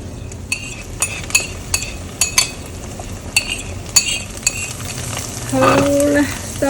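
Tofu with beaten egg poured over it pan-fries on the lowest heat and is stirred, with scattered utensil clinks against the pan and a steady sizzle that swells louder near the end; no one speaks.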